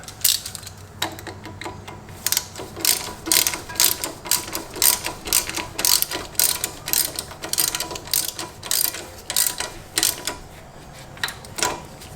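Ratchet wrench tightening a screw on an ABS wheel-speed sensor bracket of a Ford Escape, a rapid series of sharp clicking bursts repeating rhythmically and close up for about twelve seconds.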